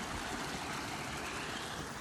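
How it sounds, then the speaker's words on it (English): Small stream of running water beside a house, a steady broadband rush and trickle that stays even and close throughout with no voices. "this is our little stream here by the house"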